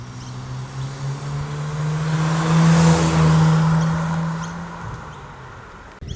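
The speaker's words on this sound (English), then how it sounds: "It's exactly what you want with the exhaust system shut." A Kia Stinger GT with its exhaust valves shut drives past, a smooth, muted engine tone that swells from moderate to loud and steady, holding a clean low note before fading away.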